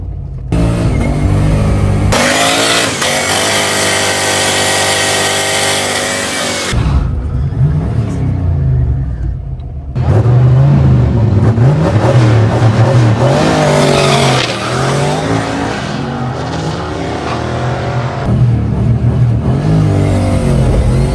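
A turbocharged Foxbody Mustang launches down a drag strip, its engine rising in pitch through the gears with brief drops at the shifts, a loud roaring run with tire noise, close and continuous.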